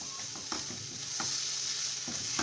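Utensil scraping and stirring through a samosa filling sizzling in a hot pan, with a steady frying hiss and periodic scrapes.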